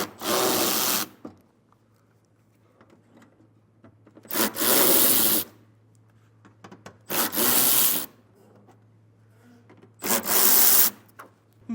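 Four 7mm fasteners come out during a trailer hitch receiver install on a 2022 Ford Bronco, heard as four loud, rasping, roughly one-second bursts separated by long quiet gaps.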